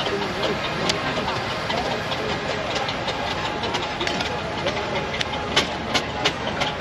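A steam traction engine at a steam fair, once used for light haulage, works round the show arena with a steady mechanical chuffing and clanking rumble amid crowd noise, with people talking nearby.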